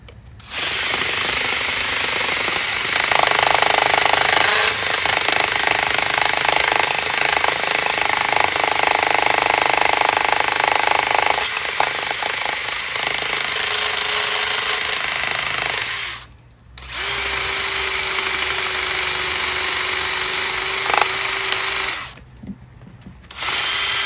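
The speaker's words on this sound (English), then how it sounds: "a wired wheel bristle drill, and drill out the old Jbweld" Loud, continuous grinding and whirring of a power drill spinning a wire brush, removing old JB Weld epoxy from a cracked Kohler Courage 20 HP single-cylinder engine block, with two brief pauses near the end.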